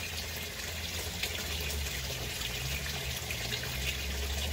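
Water pours steadily from a 1.5-inch pipe into a 4-inch stilling well in a radial flow settling tank on a 100-gallon aquaponics fish tank, a continuous close splashing rush with no talk.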